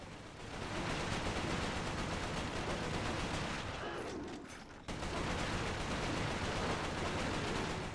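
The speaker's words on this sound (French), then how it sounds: "Pourquoi ça tire là? Tu tires sur qui?" Heavy, continuous gunfire in the shooter game Resistance: Fall of Man, a dense, loud barrage that dips briefly before resuming at full intensity.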